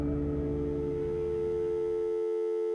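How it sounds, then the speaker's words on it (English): A telephone dial tone hums as a steady, continuous electronic tone that holds for a couple of seconds and then cuts off, with nothing else heard. "she hears the dial tone"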